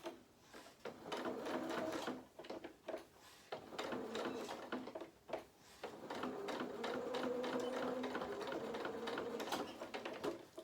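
A sewing machine stitches a fabric seam on a Luna Lapin toy, loud close mechanical whirring in three sustained runs separated by brief stops, with rapid needle clatter throughout.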